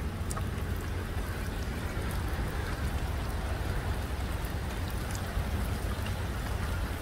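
Steady autumn rain shower falling outdoors, a continuous hiss with scattered drops tapping nearby surfaces, no voices.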